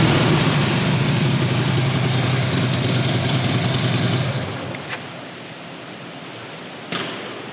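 A 2014 Harley-Davidson Tri Glide trike's engine rumbles loud and steady close by, then fades away after about four seconds, leaving quiet with two brief clicks.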